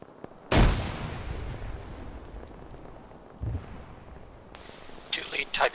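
A frag grenade blast booms loudly in a military shooter game, followed by a rumbling tail, a second, duller thud a few seconds later, and faint radio voices at the end.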